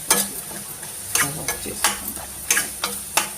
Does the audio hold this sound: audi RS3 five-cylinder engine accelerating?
no